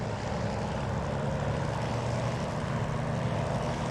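A simulated P-40F Warhawk fighter's propeller engine runs at takeoff power in a flight simulator, a dense, steady, loud drone that holds unbroken, with no talking.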